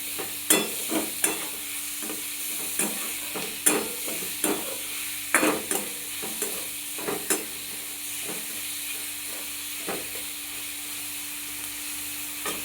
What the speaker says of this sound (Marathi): थोडा तळून देऊया कांदा,